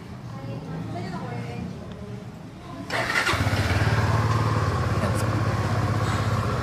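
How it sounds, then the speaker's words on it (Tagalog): A Suzuki V-Strom SX 250 motorcycle engine starts up and settles into a loud, steady, rumbling close idle, with people talking over it. "painitin mo muna bago mo gamitin o paanda rin. Or i-rev."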